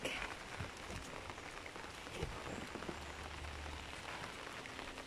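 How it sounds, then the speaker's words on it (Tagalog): Steady rain pours down on an organically grown vegetable garden with sunflowers, a dense, even hiss of drops with a soft low rumble beneath. No voices. "Finally, nag-ulan na jud."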